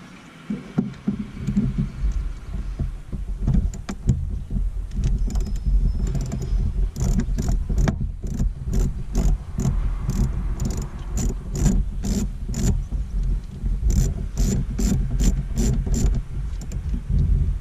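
Metal clicks and clinks of an 8mm wrench loosening the negative battery terminal on a 2003-2007 Chevrolet Silverado, a rapid series of sharp ratcheting ticks over low rumbling handling noise, close and fairly loud.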